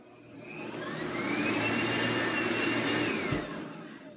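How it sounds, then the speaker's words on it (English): A vacuum cleaner runs steadily and loudly, its whirring motor drone rising slightly in pitch as it spins up, then holding an even roar throughout with no voices. "Just vacuum 10 minutes a day,"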